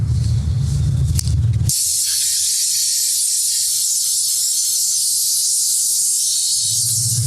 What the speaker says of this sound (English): I want to start off with wetting everything down because it just seems to work better that way